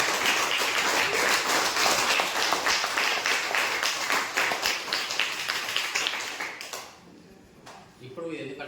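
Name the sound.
applause from students at school seminar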